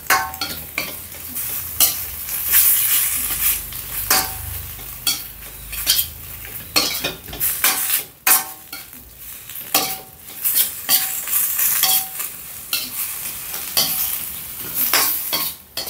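Beef stir-fried over low heat in a pan for Thai red curry, with steady sizzling and repeated scraping of a utensil against the pan, metallic clinks recurring throughout, close and fairly loud, no talking.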